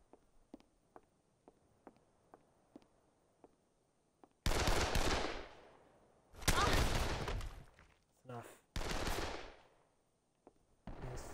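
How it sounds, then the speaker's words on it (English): Gunfire in the video game Dead Island Definitive Edition, loud sustained bursts of rapid shots broken by short gaps, preceded by faint scattered single clicks and followed by a brief voice. "so many gun firing"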